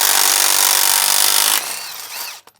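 A pneumatic impact gun rattles loudly and continuously on the suspension bolts of a Toyota N80 Hilux, then cuts off abruptly near the end, leaving a brief quieter tail with a couple of small knocks.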